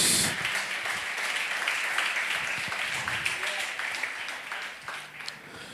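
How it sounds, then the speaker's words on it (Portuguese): A church congregation applauds during a worship service, a steady wash of clapping that holds throughout at moderate level, with some voices mixed in beneath it. "aplaudimos ao Senhor com nossas palmas."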